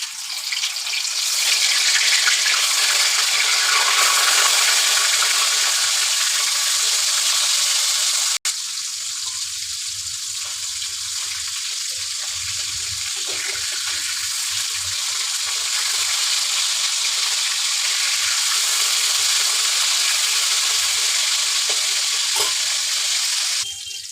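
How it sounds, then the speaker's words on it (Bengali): Pieces of rui fish frying in oil, giving off a loud, steady, dense sizzle that holds for the whole stretch with slight swells, nearby and without any talking. "এখন মাছ গুলা ভেজে নেব"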